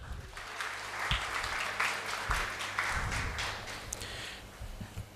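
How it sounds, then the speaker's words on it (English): An audience at a community AI coding event claps for a speaker, a full round of applause that swells in uneven bursts and holds fairly steady for several seconds. "So can we have a big round of applause for sir?"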